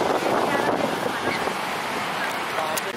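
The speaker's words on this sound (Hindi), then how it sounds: "काफ़ी ज़्यादा लहरें" Ocean waves at high tide on a Goa beach, a broad steady wash of surf with wind buffeting the microphone, continuous and fairly loud.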